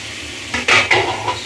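Dried loitta fish frying with onions in a pan, a low sizzle rising into a short burst of metal scraping and stirring against the pan, close and brief.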